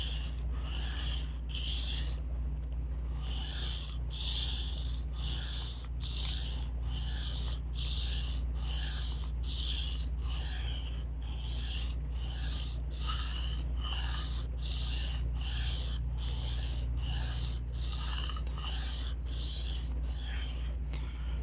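A knife blade is sharpened by hand with a regular run of rasping strokes, about one per second, close and clear against a low steady hum, with no talk.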